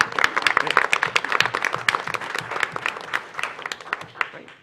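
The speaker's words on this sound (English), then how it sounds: "why don't we give them a round of applause?" A room full of people at a city commission meeting breaks into sustained applause, lively clapping that slowly thins out toward the end.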